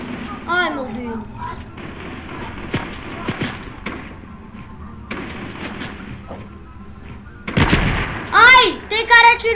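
Fortnite gunfire aimed at the player comes in scattered sharp cracks and short bursts, some near and some farther off, mixed with footsteps and game sounds while a young voice talks excitedly over much of it.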